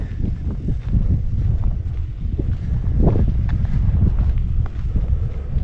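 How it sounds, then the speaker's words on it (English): Wind gusting across the microphone outdoors on an open ten-acre rural property, a steady loud low rumble and buffeting that swells and dips for several seconds with no speech. "Sorry about the wind. There's a little bit of wind today."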